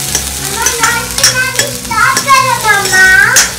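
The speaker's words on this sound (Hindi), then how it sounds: "फिर अभी हम अभी पहले प्याज को अच्छे से भून लेते हैं।" Onions fry and sizzle in a pan for a pahadi dish while a spoon stirs and scrapes against the metal in repeated close, loud strokes.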